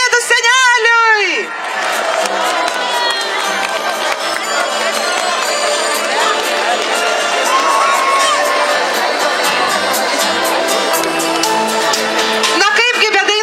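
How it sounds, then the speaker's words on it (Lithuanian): A large outdoor crowd with many children cheers, whoops and claps at the town Christmas tree lighting festival in Raseiniai, Lithuania. The noise is loud and sustained, with a voice speaking at the start and again at the end. "Vaikučiai plojimai, miesto eglutė, plojimai Kalėdų seneliui."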